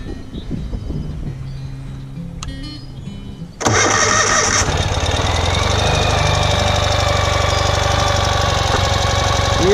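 A 2019 Ural Gear Up sidecar motorcycle's boxer engine is cranked and fires up partway through after quiet handling noises, then settles into a loud, steady, slightly ticking idle close by.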